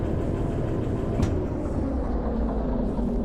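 A train in the video game Derail Valley rumbles along steadily, with a constant low mechanical roar and one brief sharp hiss partway through.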